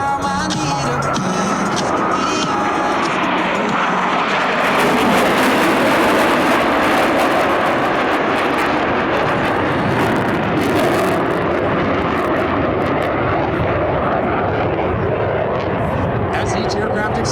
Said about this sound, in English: As each aircraft accelerates to 500 miles per hour, they will perform a reversal turn back toward the show line.